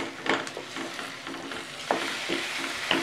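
Blanched tomato puree goes into a pan of sizzling mutton gravy, with a steady frying hiss and a few louder stirring scrapes and splashes up close.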